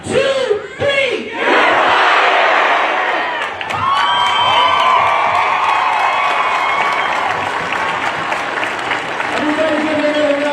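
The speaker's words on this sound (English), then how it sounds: "Everybody give me another round of applause for my words" Crowd at a protest rally amid unrest breaking into loud cheering, whoops and shouting after a few raised voices, then sustained applause and yelling that carries on close and strong throughout.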